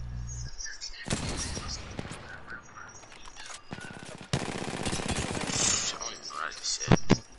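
Rampart's minigun roars in long, loud, sustained bursts in Apex Legends, with sharper shots near the end and a voice talking over the fire.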